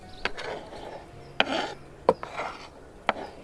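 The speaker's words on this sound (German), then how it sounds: "schneiden wir auch die Zwiebel in Waffel" An onion cut into cubes on a cutting board: four or five sharp knife chops, each followed by a soft slicing rustle, spaced about a second apart, close and quiet.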